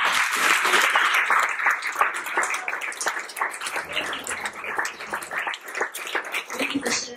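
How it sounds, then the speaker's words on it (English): A church congregation at a Pentecost Sunday service claps steadily in thanks, a dense, sustained round of applause filling the room for about seven seconds and tapering slightly near the end. "So let's clap and thank God for Rob."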